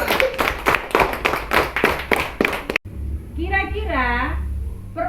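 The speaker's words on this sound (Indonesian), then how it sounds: "tepuk tangan dulu" Hands clapping in a classroom, a quick run of sharp, close, rhythmic claps for under three seconds, followed by a voice speaking over a low background hum.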